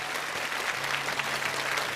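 Studio audience applause on a televised challenge show stage, steady dense clapping from a crowd held at an even level for the whole stretch, with no voices standing out above it.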